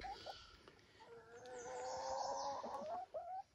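Farm rooster clucking and calling from a distance, faint repeated fowl vocalizations building into a longer crow-like call, with low background noise and no talk.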